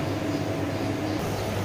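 An electric kitchen blender whirs steadily while blending chili peppers with a little water, a loud continuous motor drone and churning wash with no pauses.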